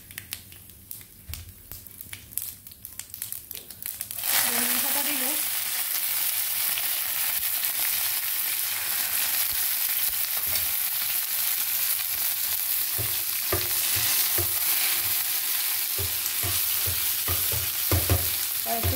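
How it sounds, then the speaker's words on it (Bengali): Mustard seeds hit hot frying oil and burst into a loud, dense, continuous sizzle that holds steady after a quieter start, with faint crackles and stirring scrapes near the end. "এখানে আমি সরিষার দানা দিয়েছি"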